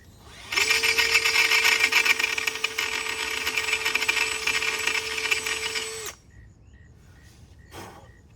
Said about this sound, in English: I'm gonna switch back to this smaller drill bit. I'm gonna drill that out too.